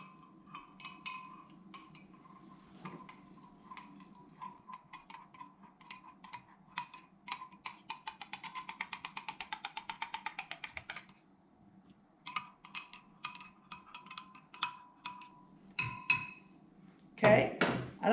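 Borax being stirred into a solution, a spoon clicking and scraping against the container in a quick, steady run of close ticks and taps, fading, then resuming with louder clinks near the end.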